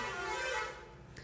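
A vehicle horn sounds outside as a long, faint, sustained honk that fades at the end, heard alone with no talk over it.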